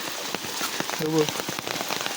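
Heavy first-season rain pours down at night on a stream during a crab hunt, a dense, steady hiss with a brief low tonal murmur partway through.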